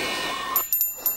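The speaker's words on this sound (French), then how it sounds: "On aurait dit le son d'une cloche!" Small bell ringing in a few bright, quick dings, close and clear, right after a swell of animated-film music fades out.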